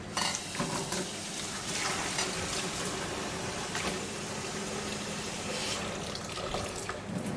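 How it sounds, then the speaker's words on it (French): Water runs and splashes steadily over a commercial kitchen cooking station with cast-iron gas burner grates as it is rinsed after cleaning, a continuous close wash of spray and trickling lasting several seconds. "on va faire le rinçage."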